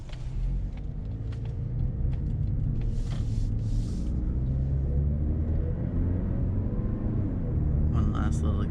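A 2019 Mazda3 sedan with the Preferred Package accelerates in a steady, loud low rumble of engine and road noise that holds through the whole stretch, with a couple of brief higher whooshes partway through and near the end.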